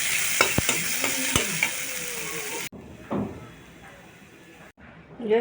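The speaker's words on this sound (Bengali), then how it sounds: "পেঁয়াজটা হালকা করে একটু ভেজে নেব তেলে" Onion frying lightly in a little oil gives a steady, close sizzle with stirring clatter for a few seconds. Then it drops quieter with a few soft knocks, and a voice talks over part of it.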